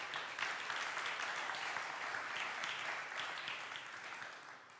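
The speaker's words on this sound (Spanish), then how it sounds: "Aplauda su nombre en esta noche." A Spanish-speaking church congregation applauds during an evening sermon, a steady wash of many hands clapping at once, fairly distant and soft, continuing evenly for several seconds.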